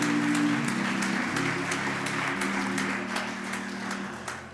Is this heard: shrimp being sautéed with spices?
no